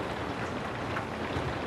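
Steady rain falling in a radio drama, a dense, even hiss of close downpour that holds constant without pauses or voices.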